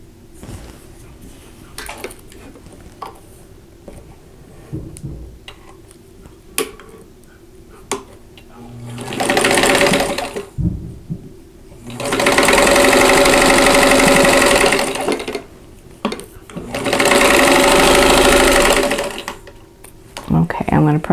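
Sewing machine stitching quilt block pieces in several short bursts of rapid mechanical whirring, loud and close, between stretches of quieter handling noises and someone talking.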